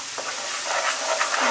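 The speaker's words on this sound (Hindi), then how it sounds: "उसके साथ ही हम अपना जो हमने पेस्ट बनाया था वो पेस्ट ऐड कर देते हैं।" Spice paste for shahi soya chaap hits a hot pan with a strong, continuous sizzle and hiss that swells slightly toward the end, close and alone without talk.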